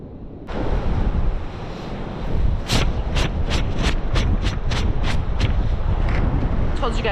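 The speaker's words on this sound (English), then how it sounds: "Told you guys it was windy today." Strong winter wind roars across a Florida Panhandle beach during surf fishing, buffeting the microphone in a constant rumble while breaking surf washes through in repeated surges.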